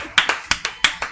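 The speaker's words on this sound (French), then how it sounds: "j'ai clapé comme ça avec les doigts du micro" Sharp finger claps or snaps struck close to a microphone, about seven quick percussive hits in an uneven rhythm.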